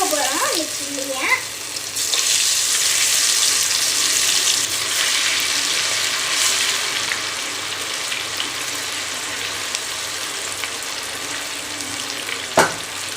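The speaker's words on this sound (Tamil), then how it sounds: "இப்போ நம்ம எண்ணெய்க்குள்ள போட்டு பொரிக்க போகிறோம் அந்த சில்லியை." Loud, steady hissing and crackling of battered mushroom frying in hot oil, with a few clinks early on and a sharp knock near the end.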